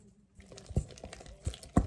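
Crinkling of a plastic wrapper, a few sharp crackly bursts after a brief quiet start, close and fairly soft.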